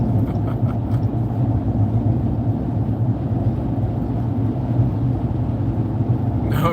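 Steady low rumble of a car on the road heard from inside the cabin, constant engine and road noise with no talk over it.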